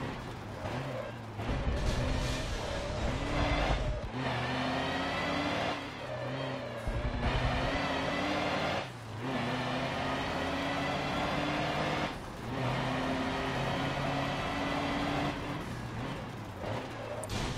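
A truck engine powers along a race track in Forza Motorsport 7, holding a loud, steady drone broken by periodic dips and surges as gears change.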